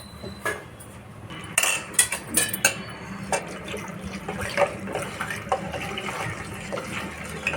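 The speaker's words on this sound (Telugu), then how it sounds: "వాటర్ పోస్తున్నాం కొంచెం" Water poured into tamarind in a metal pot while making sambar: a steady, close splashing fill with a few clinks of utensils against the pot near the start.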